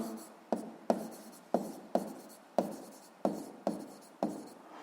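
Chalk or pen strokes on a board while a physics formula is being written, about nine sharp scratchy strokes in a steady rhythm, each fading quickly, close and moderately quiet with no speech.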